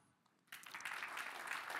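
Applause from a conference audience swells suddenly after a quiet moment, building into steady, moderately distant clapping that continues to the end.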